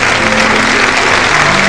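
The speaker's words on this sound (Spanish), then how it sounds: "Este aplauso para Millaray." A loud, steady wash of applause fills a large crowd at a Teletón telethon, clapping for Millaray after a tribute to her late father, with a faint tonal hum running beneath the dense, even clapping.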